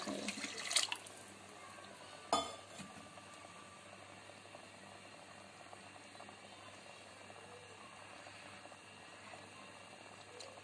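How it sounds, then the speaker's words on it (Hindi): Rice-soaking water poured from a mug into a pot for chana pulao gives a soft, steady liquid rush with a couple of sharper splashes near the start, close up, with no talking. "ये दूसरा मग, ये वो पानी है जिसमें मैंने चावल भिगोए थे।"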